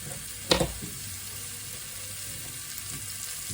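Mushrooms dropped into a pan with garlic and butter, a clattering thump as they land and then a steady frying sizzle that continues underneath.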